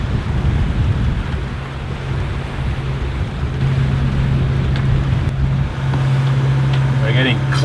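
A sailboat motoring under engine power along the Scottish coast near the Mull of Kintyre, a steady low droning hum mixed with wind and water noise, continuous and fairly loud throughout.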